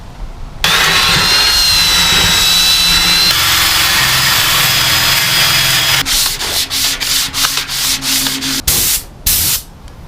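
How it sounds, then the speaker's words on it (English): A wire wheel strips old paint from the grill of a 1973 Scout II, giving a loud, continuous grinding whir that later breaks into choppy bursts as the tool is pressed on and lifted off. "for this backside I'm just going to hit it with a wire wheel here."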